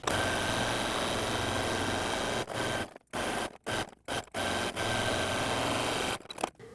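A sewing machine runs a stretch stitch along the rounded edge of binding on a dog surgery shirt. It hums steadily and fairly close, and stops briefly several times before running on.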